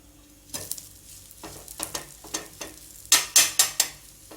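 Garlic cheese bread roasting in a pan, a bright crackling sizzle punctuated by a series of sharp scraping strokes that grow louder near the end as the slices are pressed and turned over, with no talking.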